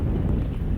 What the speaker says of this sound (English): Sorry if the wind interrupts.